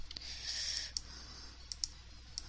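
Computer keyboard keys clicked while playing a game, a few sharp isolated clicks and a short burst of quiet typing, faint and close, with no talking.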